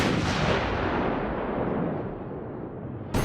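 A giant explosion engulfs the island in Resident Evil 4, a loud sustained roaring rumble that slowly fades over a few seconds, with no talking.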